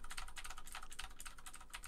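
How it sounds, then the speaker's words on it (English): Fast, continuous mechanical keyboard typing, crisp clicky keystrokes in a busy rhythm, close and fairly quiet, with no voices. "can you guys hear my keyboard?"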